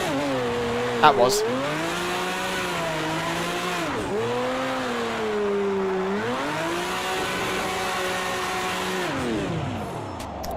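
A simulated car engine in Project CARS 2, running the ProComp Drift Mod, revs up and down repeatedly with uneven spikes in its rev range, loud and close, while someone briefly speaks over it.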